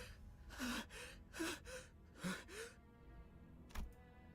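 Sinclair gasping for air in the video game Limbus Company, four quiet, close, ragged gasps, three in quick succession and a last one after a short pause, with no speech.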